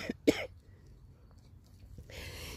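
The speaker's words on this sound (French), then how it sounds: "je tousse toujours" A sick person coughs once or twice near the start, a short harsh burst, followed by quiet room noise and a rising hiss toward the end.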